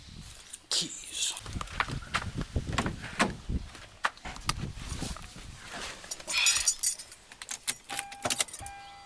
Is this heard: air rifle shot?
no